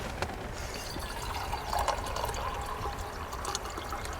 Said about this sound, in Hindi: ये लो पानी। मग से डाल देता हूँ